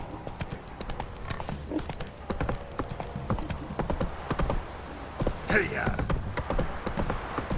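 Roach the horse gallops in The Witcher 3, with rapid, steady clip-clop hoofbeats running through the whole stretch, a brief whinny, and a voice calling out to urge the horse on.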